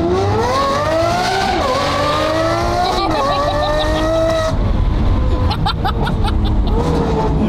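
A Lamborghini Aventador SVJ accelerating hard on a freeway, its engine note climbing through the revs with a shift partway through. It stays loud and close throughout, and a voice is heard near the end.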